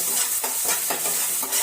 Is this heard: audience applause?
no